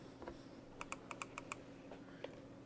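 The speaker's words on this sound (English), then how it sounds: "when I'm clicking, I'm left clicking" A computer mouse is left-clicked while working in Blender 3D software, producing a quick run of about eight sharp, light clicks, near and isolated against quiet room tone, with no speech.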